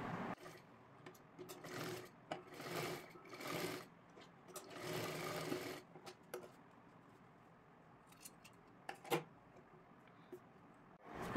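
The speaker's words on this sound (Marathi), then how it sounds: "डबल शिलाई मारून घ्यायची आहे।" A sewing machine runs in several short bursts while double-stitching a lehenga latkan, with faint handling clicks and rustles between runs.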